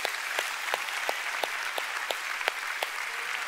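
Congregation applause at a church service, a steady wash of many hands clapping with a few sharper claps standing out in a loose rhythm, moderately loud and with no voices over it.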